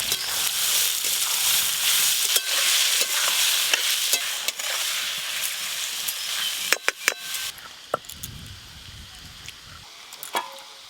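Vegetables fry in a pan for a home-cooked mutton curry meal, with a steady loud sizzle and stirring scrapes that ease off toward the end, with no voices.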